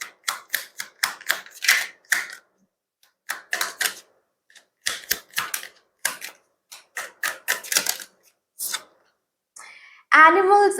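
Tarot cards are shuffled and drawn, giving crisp, rapid papery flicks in bursts separated by short pauses, close and clear, with a brief voice sound at the very end.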